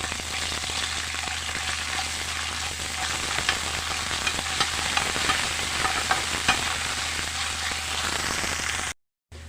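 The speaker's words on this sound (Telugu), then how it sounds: "ఇప్పుడు ఇందులోకి అల్లం వెల్లుల్లి పేస్ట్ పచ్చి వాసన పోయేదాకా ఫ్రై చేయండి" Ginger garlic paste frying in hot oil while being stirred: a steady crackling sizzle dotted with spoon scrapes, then a brief drop to silence near the end.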